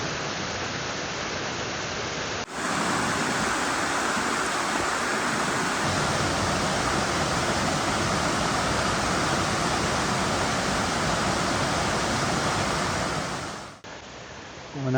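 A steady, dense rush of falling water from St. Mary Falls or Virginia Falls in Glacier National Park roars continuously, loud and broadband, with no voices over it.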